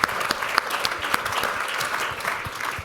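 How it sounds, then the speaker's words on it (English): Steady applause from a live audience at an evening podcast panel event, dense and continuous clapping with a few sharper individual claps standing out, held at an even level throughout. "Give them a big round of applause."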